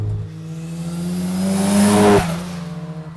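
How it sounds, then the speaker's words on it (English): A modified Mazda FC RX-7 with a rotary engine producing about 340 wheel horsepower revs up, its pitch climbing to a loud peak, then drops back to a steady, buzzy idle. "you can actually hear the distinct sound of the rotary engine"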